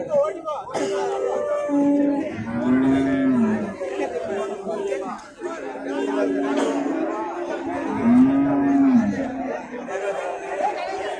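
Milk cows at a busy cattle market give a couple of drawn-out moos amid constant crowd chatter and nearby talking.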